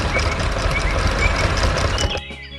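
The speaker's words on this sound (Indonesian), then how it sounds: "Truk hijau sedang bekerja keras." An animated green truck works a farm field, its engine running in a steady, loud rumble with a reversing-style beep pattern before the noise cuts off sharply near the end.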